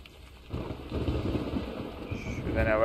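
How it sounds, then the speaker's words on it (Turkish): Steady rain falls in the Blair Witch video game, a continuous close hiss of drops that swells after a quiet opening and grows a little louder toward the end. "Yağmur da ne güzel yağıyor ya,"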